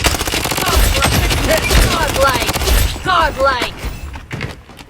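Rapid automatic gunfire in the shooter game Blood Strike, hammering bursts of shots with thuds and impacts, loud and busy, dropping off near the end.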